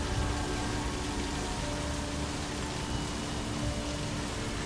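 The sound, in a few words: rain in A Machine For Pigs video game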